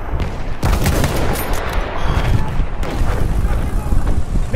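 Sniper rifle shots fired in a video game, sharp cracks that come a few times within a dense, loud mix of constant game gunfire and explosion noise.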